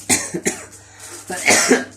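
A man coughs several times in quick bursts, close and fairly loud, with a brief pause before a final cluster of coughs, while he talks about a chromoly bicycle frame.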